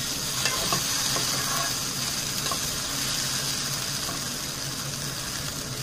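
Raw banana pieces roast in a pan, giving a soft, continuous sizzle with scattered light scrapes of stirring, fairly quiet and with no talk.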